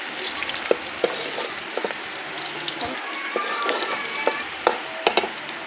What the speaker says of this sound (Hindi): ये जी हमारा तड़का प्याज, लहसुन और अदरक का।